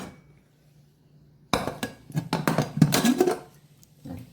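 A pressure cooker lid is opened after a single whistle with spinach and green gram inside: after a quiet stretch, a loud metallic clatter and scrape of the lid, a brief rising hiss, then a final clank.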